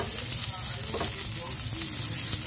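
Onions sautéing in a pan as the base for a sardine and pechay stir-fry, a steady close sizzle of frying with a faint scrape of stirring throughout.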